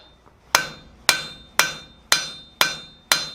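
Blacksmith's hammer flattening a heated quarter-inch steel bar into a scorpion-tail bottle opener, six loud, evenly spaced ringing strikes about half a second apart, each bright and metallic with a short ringing decay.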